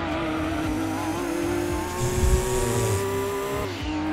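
Four-wheel drive race car in Gran Turismo 2, engine held at a high steady drone through a corner while tires squeal and skid, loud and close, without talk.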